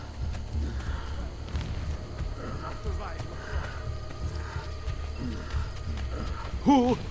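Horse hooves clop irregularly in Assassin's Creed: Brotherhood beneath steady talking, and a short sharp whinny breaks through near the end.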